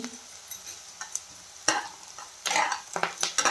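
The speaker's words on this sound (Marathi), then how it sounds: "याच्यानंतर आपल्याला लसूण टाकायचा आहे।" Coarsely crushed garlic frying with onions in a pan, a soft sizzle under intermittent scraping and stirring strokes, with a few louder stirring bursts toward the end, close and fairly quiet.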